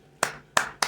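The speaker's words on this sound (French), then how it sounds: "j'applaudis" Three sharp hand claps ring out, close and loud, spaced unevenly about a third of a second apart with brief decays between them.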